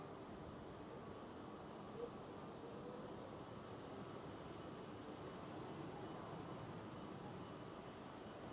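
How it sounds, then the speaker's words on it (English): Faint, distant broadband rumble of a KLM Boeing 777-200 airliner taxiing in at Schiphol after landing, steady and unbroken throughout. "KLM 777-200 landed on the center runway and now taxiing in."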